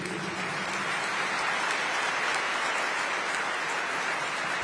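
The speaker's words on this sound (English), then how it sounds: "And now I ask everyone to applaud every great heart." Sustained applause from a large audience at a National Archives speech, a dense, steady wash of clapping that fills the whole stretch without pause, with no clear talking over it.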